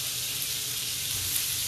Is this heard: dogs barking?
no